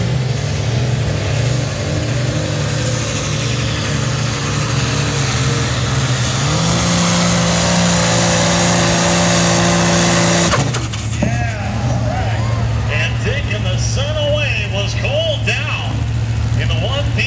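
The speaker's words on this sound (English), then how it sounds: "Dan out of Manteca with a case tractor." A 1957 Case model 311 tractor roars loudly at a tractor pull, its steady engine drone rising in pitch midway before cutting off abruptly, followed by crowd noise and an announcer talking.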